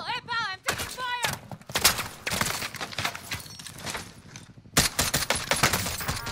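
Rapid bursts of gunfire from Call of Duty: Modern Warfare, dense volleys and single shots crowding the scene, with shouted voice and game sound effects mixed in, loud and close.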